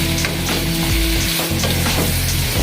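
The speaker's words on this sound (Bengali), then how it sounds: "মাংসটা নেড়ে দিতে হবে" Beef curry frying loudly in a pan as it is stirred, a constant close sizzle with scraping strokes of the spoon against the metal and no talking.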